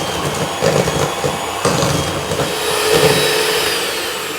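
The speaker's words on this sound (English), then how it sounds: "Beat in the egg." An electric mixer beating an egg into creamed butter and sugar for a fruited tea cake, a steady loud motor whine with shifting pitch and bumps as the batter is worked, no speech.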